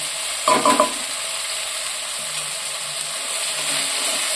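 Kashmiri red chilli, turmeric and other spices fry in a pan, giving a steady hiss and sizzle, with a brief clatter of stirring near the start and then continuous frying sound.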